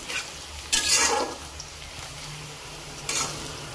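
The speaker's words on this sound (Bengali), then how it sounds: "পেঁয়াজটা না খুব তাড়াতাড়ি জ্বলে যায়, সেই জন্য এটা ভাজার সময় আপনাদের কন্টিনিউ নাড়তে হবে।" Onions sizzle softly in a pan under continuous stirring, with a couple of brief louder scraping bursts over a faint steady hiss and low background hum, no speech.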